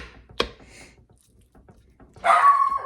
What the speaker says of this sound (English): It's definitely a good protection dog, that's for sure.